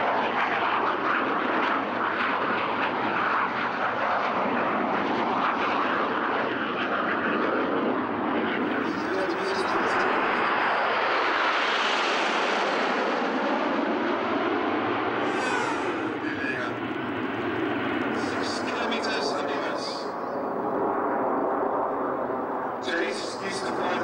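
A model aircraft with wings and two motors flies overhead, its engines droning loudly throughout, swelling as it passes close and fading back, with voices talking over it.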